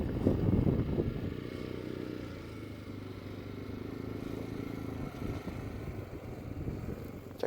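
An ATV engine climbing a collapsed mountain road, a steady rumbling drone with rattling clatter and slight revving, close and continuous, no voices.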